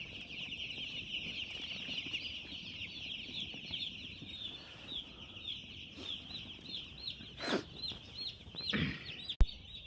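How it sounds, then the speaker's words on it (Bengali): Day-old broiler chicks cheep in a dense, continuous chorus of high, rapid peeps, with a few louder bumps and a sharp knock near the end. "এই দেখেন আজ ব্রয়লার মুরগির পয়লা বাচ্চা আসছে।"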